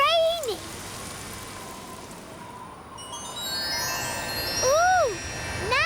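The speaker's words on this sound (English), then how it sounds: "It's all cloudy and rainy." Cartoon rain falls as a steady, soft hiss throughout, with brief high, sing-song character voices near the start and again toward the end.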